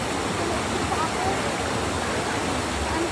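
River water rushes in a steady, loud, broadband roar throughout during a river crossing on Kapigpiglatan Mountain, with no pause in the flow.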